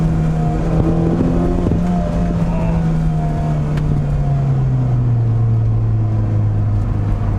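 A Kia Elan with a newly replaced clutch and flywheel drives along, its engine droning loudly and steadily close by. The pitch dips as gears shift down from third to second.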